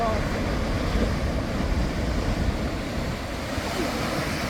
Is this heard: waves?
yes